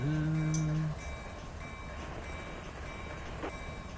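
A train in the RUN8 railroad simulator game, opening with a short loud horn-like tone that gives way to a steady rolling rumble of railcars on rails.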